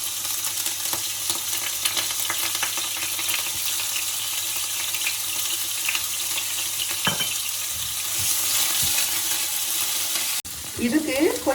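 Cumin and ginger frying in oil for a Sri Lankan-style mud crab curry with mango, a steady crackling sizzle that runs throughout, with a brief knock and a burst of clatter near the end.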